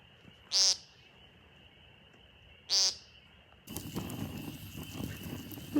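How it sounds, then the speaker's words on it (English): Spring peeper frogs call at night by a lake in April, two high, sharp peeps a couple of seconds apart over a steady background drone, then rustling handling noise. "The peepers are peeping."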